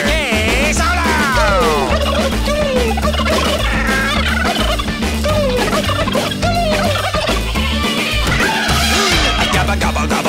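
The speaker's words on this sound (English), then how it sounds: "Turkey solo." Gobbling turkey sounds repeat loudly and continuously through a lively song, sitting right up front over the steady musical backing.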